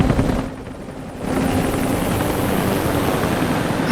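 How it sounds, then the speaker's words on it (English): A helicopter in the Rise of the Tomb Raider game thrums loudly and steadily, rotor chop dipping briefly before returning to a constant close roar. "Well, Lara, unless you can outrun a helicopter, I think you may just well be."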